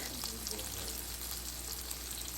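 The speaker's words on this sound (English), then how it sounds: "I'm just going to add the spices so that the potatoes can cook nicely in the spices" Potatoes cook in a pan as spices go in for methi aloo (potatoes with fenugreek leaves), a soft, continuous frying hiss, fairly quiet and without speech.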